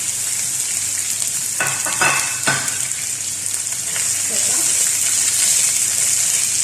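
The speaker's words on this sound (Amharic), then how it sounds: "በዘይት ለ10 ደቂቃ ሽንኩርቱን ጠብሰዋለሁ" Onions fry in oil with a steady hiss while a spoon scrapes and clinks against the pan a few times; a voice speaks briefly.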